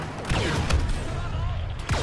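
An ion weapon in Star Wars Battlefront 2 fires a few heavy, shotgun-like blasts during a clone-war battle on Kashyyyk, with sharp bursts standing out over rumbling battlefield noise.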